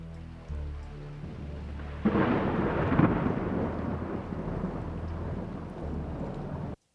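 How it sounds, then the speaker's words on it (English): Steady rain pours while a low thunder rumble rolls in and lingers, broad and full, before cutting off abruptly at the end. "you can hear the rain and thunder is a little bit more to the wide areas here of your headphones"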